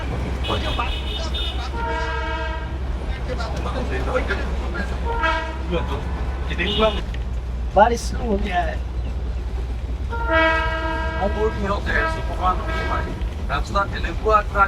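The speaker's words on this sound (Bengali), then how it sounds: "ট্রেন তো প্রচুর হর্ন মারতে হচ্ছে কারণ গাড়ি যাচ্ছে রাস্তাতে অলরেডি জাম আছে সেই জন্য হর্ন প্রচুর মারতে হচ্ছে" The Darjeeling toy train sounds its horn again and again in short and long toots as it runs along a road shared with traffic, over a steady low engine rumble.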